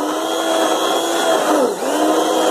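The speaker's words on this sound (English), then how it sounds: "using a cheapo Asda or Walmart stick blender or hand blender" A cheap stick hand blender runs in soup, a loud, steady, close motor whine with a brief dip near the end and no talking.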